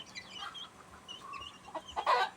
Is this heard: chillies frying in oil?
no